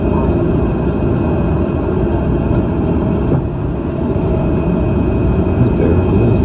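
An airliner arriving at a gate at the Atlanta airport, heard as a loud, constant low rumble with a broad engine roar that dips briefly partway through.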